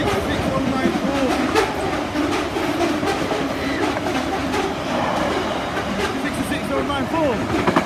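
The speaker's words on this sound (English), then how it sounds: "look what it is, class 66. Another DB Red," A DB red Class 66 diesel locomotive passing with its train at night at Wigan, a continuous loud rumble with wheel clatter, close by, while someone talks over it.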